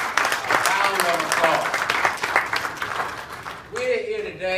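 An audience at a civic ceremony breaks into sustained applause that holds steady for several seconds. A voice takes over near the end.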